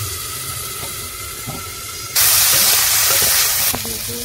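Oil hisses and spatters loudly as chili and onion hit a hot pan in a village kitchen, a sudden burst of frying that stays steady before easing slightly, with faint clatter underneath.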